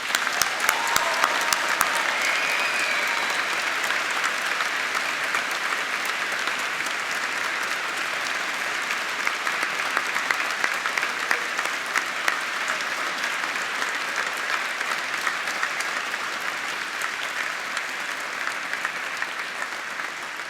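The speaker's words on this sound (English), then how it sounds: "let's give this class of 2019 a big collective round of applause" Sustained audience applause for the graduating class of 2019 at a Faculty of Science graduation ceremony, a dense, steady wash of many hands clapping that holds evenly for about twenty seconds with no voices over it.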